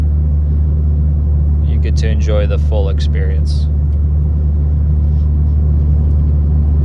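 A Stage 2 BMW F30 with about 100,000 miles drones with a steady, low exhaust rumble while driving, a constant deep hum that carries on beneath someone talking in the cabin.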